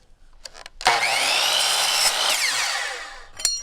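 A power saw rips loudly through a piece of wood in a home workshop, a steady whining cut lasting about two and a half seconds, preceded and followed by brief clunks as the blade spins up and winds down.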